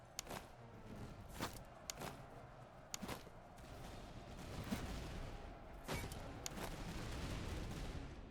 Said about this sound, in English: let's get all of our artillery shooting over here